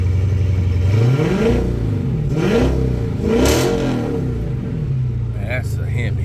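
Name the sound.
Gen 3 HEMI engine starting and running after spark plug change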